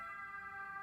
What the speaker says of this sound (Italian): Ah sì, vedi l'ambulanza.